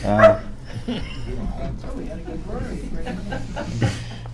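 A dog barks and yips nearby during a town board meeting, with a sharp bark at the start and another toward the end, while people keep talking throughout.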